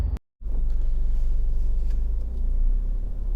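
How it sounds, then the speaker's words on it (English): A Honda CR-V 2.2 i-DTEC diesel engine runs with a steady low rumble, broken by a very brief dropout near the start, then continuing evenly with no voices. "Engine's running"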